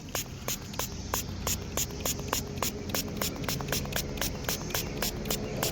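A spray bottle is squeezed in quick, steady hissing pumps onto an 1899 Barber dime dug from the ground, around twenty evenly spaced bursts, close and rhythmic over a constant outdoor hiss.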